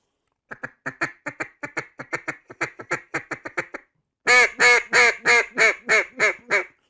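A duck call blown in a fast run of short, raspy quacks, then a slower series of louder, longer quacks, close and clear with no talking.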